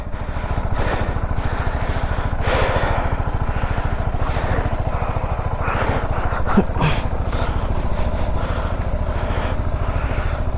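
A heavy motorcycle engine runs loud and close with a fast, steady pulsing throb, revving slightly in the middle, with no talk over it.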